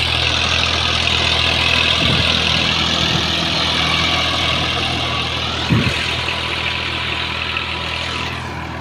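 A tractor ploughing a farm field runs with a steady, close engine drone and low rumble throughout, with a couple of brief knocks or clunks standing out over the continuous noise.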